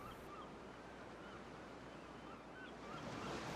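Ocean waves break with foam splashing straight upwards, a steady faint wash of surf noise with light wind, continuous and distant throughout.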